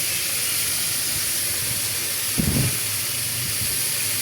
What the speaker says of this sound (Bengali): আলু সেদ্ধ করছি।